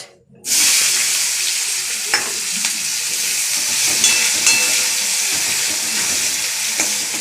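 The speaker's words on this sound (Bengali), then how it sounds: "পেঁয়াজটা ভাজা হোক।" Onions with bay leaves frying in a pan, a steady close sizzle that starts abruptly after a brief quiet moment and carries on evenly, with a few small clicks of stirring.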